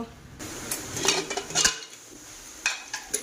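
A lid set on a cooking pot with potatoes, water, white oil, salt and lemon, a few metallic clanks and scrapes close by with faint background hiss.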